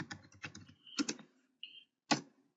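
Quiet typing on a computer keyboard while searching a disaster management system: a few short clusters of crisp keystrokes separated by pauses, close and soft, with no voices.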